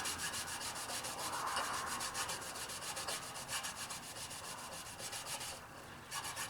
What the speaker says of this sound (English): Okay, you guys can see I'm using good scrubbing action.